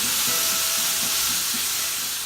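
Halved cherry tomatoes sizzle in a hot pot, a loud, steady hiss of frying with faint crackles and soft pops underneath, no voices.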